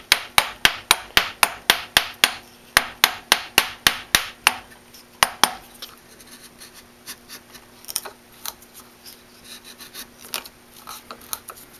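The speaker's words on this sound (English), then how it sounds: "Carefully pare away down to the cut." A chisel pares wood for a handle with a run of sharp, close, evenly spaced knocks. These thin out into sparser, fainter taps and light scraping, with no voices.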